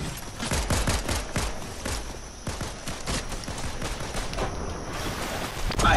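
Video game gunfire in a multiplayer match, rapid bursts of shots crackling in quick succession, loud and continuous across the whole stretch with dense overlapping reports.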